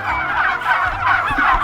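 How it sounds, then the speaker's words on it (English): A flock of turkeys gobbling on pasture inside electric netting, their overlapping calls close and continuous, rising and falling in repeated bursts with no talk. "Those are turkeys"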